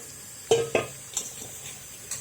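Chopped vegetable pieces tipped into a hot pan for an onion mixed vegetable curry, giving a few sharp clattering hits and brief sizzles spaced over two seconds, fairly quiet.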